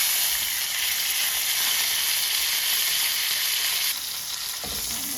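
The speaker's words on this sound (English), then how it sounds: "I'm going to take this and go ahead and sear all the sides" A sous-vide tomahawk steak sears in a hot pan with butter, producing a loud, unbroken crackling sizzle up close that eases slightly near the end, with no voices.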